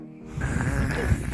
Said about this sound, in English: It's making you make snoring noises though, isn't it?